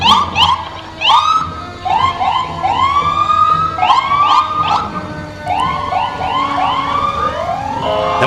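An ambulance siren wails in a passing small-town parade, loud and close, with repeated rising whoop sweeps and overlapping siren tones cycling continuously.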